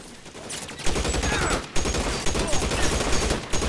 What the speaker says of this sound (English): you want to fight with Tommy guns?